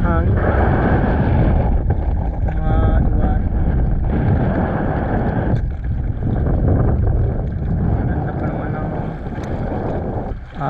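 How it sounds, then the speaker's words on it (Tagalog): Strong wind buffets the microphone with a constant rumbling roar outdoors by the sea while fishing, with people talking underneath. "So, ang lakas talaga ng hangin."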